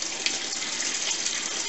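Water gushes steadily into a brewing vessel during an all-grain home brew day, about 14 litres filling it, with a loud, broad hissing splash, close up and without talk.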